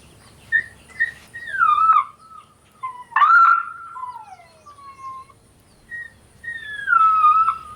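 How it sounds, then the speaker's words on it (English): High, wavering coyote pup whimpers and drawn-out whines come in short bursts with pauses between, a distressed call, clear and alone against quiet. "Here's the MFK Pup Whimpers and Moans."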